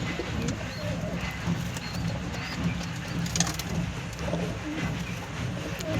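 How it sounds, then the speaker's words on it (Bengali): Pigeons kept for sale cooing softly and repeatedly, their low murmuring calls overlapping in a steady background, with a few faint chirps and some movement noise nearby. "দেখতে পাচ্ছ পায়রাগুলো"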